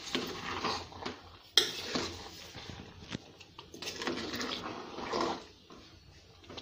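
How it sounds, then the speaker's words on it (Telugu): Sugar stirred into cooked rice in a pot for chakkara pongali, with a metal spoon scraping and clinking against the pot in uneven bursts, fairly quiet and close. "పంచదార అన్నంలో కలిసే విధంగా కలుపుకోండి"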